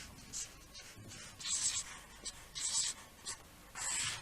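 A pen or marker sketches roughly on cardboard while making a cardboard cut-out costume, producing quiet, close scratchy strokes in short irregular bursts with brief pauses between them.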